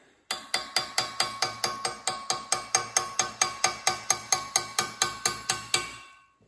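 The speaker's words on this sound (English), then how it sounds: "you can tap your way around here until you can get enough to get something like my Knipex pliers on there" A punch or chisel taps around a stripped screw on a vintage Craftsman vise, about twenty evenly spaced sharp metallic strikes in a steady rhythm, close and clear with no voices.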